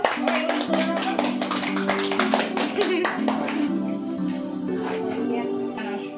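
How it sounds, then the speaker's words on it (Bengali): Rapid hand clapping at a children's birthday party around the cake cutting, mixed with voices singing and talking over the clapping throughout. "হাততালি দাও"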